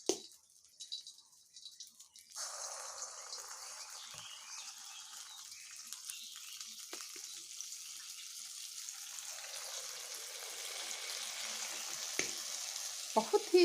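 Dahi vada batter drops from a spoon into hot oil and fries, a sudden surge of bubbling sizzle after a few quiet clinks, then a steady, slowly building crackle with occasional sharp pops.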